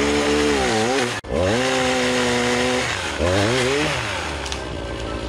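Chainsaw cutting tree branches during tree pruning, a loud close engine revving steadily with pitch dipping under load, briefly cutting out once before roaring on through the cut.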